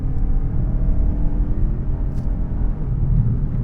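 A 2022 Mazda3 engine drones steadily while climbing a hill in a held gear, a low continuous rumble from inside the car with a slight swell as it downshifts.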